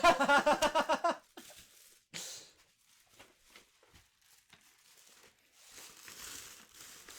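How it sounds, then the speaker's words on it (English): Present wrapped in cheap wrapping paper being opened, a burst of rhythmic crinkling and tearing at the start, then sparse rustles and paper crackles at close range with a pause in between. "I spent 10 cents on this wrapping paper."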